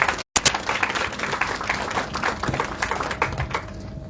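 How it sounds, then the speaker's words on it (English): An audience applauds for a studio show, a dense, continuous patter of many hands clapping at close range that fades slightly toward the end. "A huge round of applause,"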